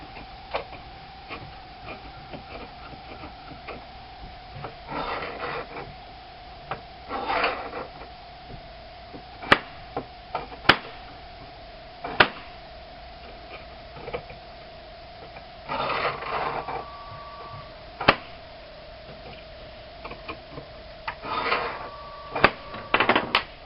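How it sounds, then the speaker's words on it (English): A scratch awl scribing a line on metal for Polaris Ranger semi-metallic emergency brake pads: faint, repeated scraping strokes with scattered small ticks over a steady background hum, recorded close and quiet with no talking. "I've scribed the line with my awl"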